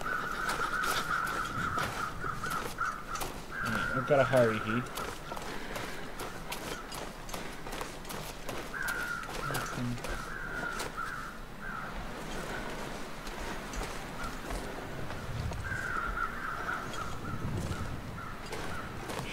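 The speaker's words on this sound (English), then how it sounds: "There's some crows up ahead" Crows caw in the wilderness of the survival video game The Long Dark, with a few faint harsh calls set against steady wind and footsteps while someone talks over the game sound.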